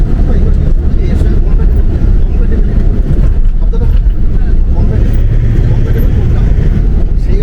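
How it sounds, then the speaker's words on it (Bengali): A car sets off along a mountain road in Kinnaur towards Tabo, its engine and road rumble running steadily and loudly throughout, with people talking over it. "আমাদের গাড়ি আজকে টাবোর উদ্দেশ্যে রওনা দিচ্ছে"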